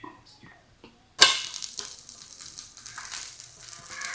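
Tomato dosa on a hot pan, a sharp scrape as it is flipped followed by a steady, close sizzle of frying batter that fades slightly, with a voice speaking over it.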